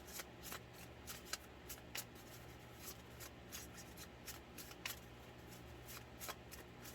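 Tarot cards shuffled by hand in a quiet room, a steady run of soft riffling and papery flicks with sharper snaps every second or so, close and alone without talk.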